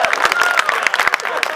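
Audience clapping at a Hindi comic poetry show: dense, lively applause with sharp individual claps, steady and fairly loud throughout with a murmur of crowd voices underneath.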